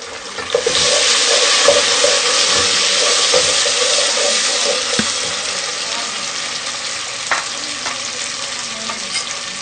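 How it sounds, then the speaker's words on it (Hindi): Tomatoes sizzle loudly and steadily in a hot pan, with occasional clinks and scrapes of stirring. "अब हम टमाटर डाल देंगे।"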